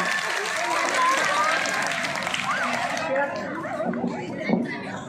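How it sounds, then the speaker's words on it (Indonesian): Audience applause for a student presenter at a school literacy session, a dense burst of clapping for about three seconds mixed with chatter and laughter, then thinning into scattered noise and voices. "Tepuk tangan untuk yang di depan"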